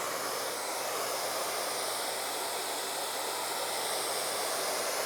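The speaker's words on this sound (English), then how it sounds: "Using my blow dryer to kind of show me any bad hairs" A hair dryer blows continuously nearby, a steady loud rushing hiss that stays even throughout with no voices.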